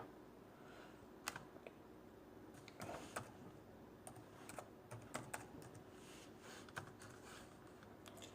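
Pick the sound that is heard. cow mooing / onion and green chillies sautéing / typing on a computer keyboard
typing on a computer keyboard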